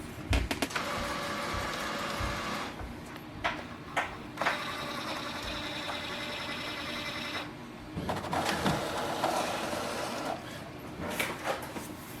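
Mechanical whirring and clattering of an Epson XP-8700 inkjet printer running a printhead power cleaning, steady with periodic clicks and shifts in pitch, no voices.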